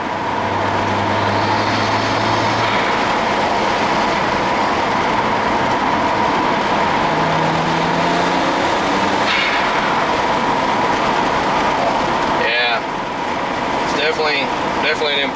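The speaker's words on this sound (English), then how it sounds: "You can hear the turbo spooling up a lot better." A BMW 335xi tuned to MHD stage 1 with an upgraded intercooler, couplers and catless downpipe, heard from inside as a steady loud engine and road roar, rising whistling turbo spool tones and a brief sharp blow-off valve release near the end.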